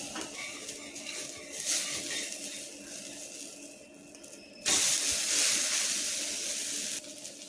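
Sprouted green gram dosa sizzles on a hot pan as a steady close hiss. The sizzle surges sharply louder partway through, when the dosa is flipped to cook the other side.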